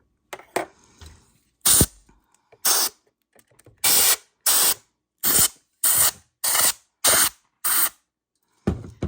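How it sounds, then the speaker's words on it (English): Short sharp bursts of compressed air sprayed into a sewing machine in quick succession, about nine blasts, some rapid and clustered, close and loud with brief silences between. "We want to spray it different directions because it'll make the dust and yuck come up"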